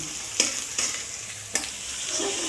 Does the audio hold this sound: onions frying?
yes